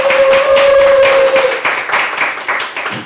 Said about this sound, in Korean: 그러면 큰 박수로 모시겠습니다